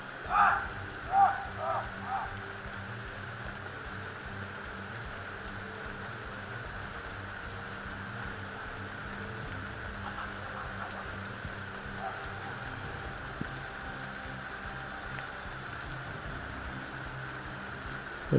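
Heavy rain pours down in a steady, hissing wash throughout, with a few louder knocks or thuds near the start and no talking.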